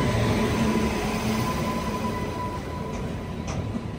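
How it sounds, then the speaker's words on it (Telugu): A goods train rolls into Tenali Junction station, a steady low rumble of wagons with faint tonal hum throughout, moderately distant and continuous over about four seconds. "అటు సైడ్ నుంచి గూడ్స్ అయితే వచ్చేస్తుంది."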